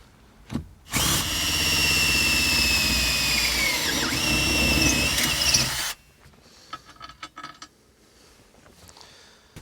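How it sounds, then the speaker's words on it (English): A power drill bores through a base plate, a loud steady whine lasting about five seconds, then stops, leaving scattered knocks and handling noises alone. "drill through there"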